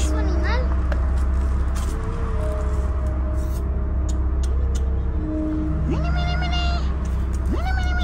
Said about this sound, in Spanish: Ahí hay un gato